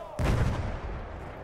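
A single sharp, loud rifle shot in the Battlefield 1 campaign cracks out with a booming report, followed by a rumbling tail that fades over the next second.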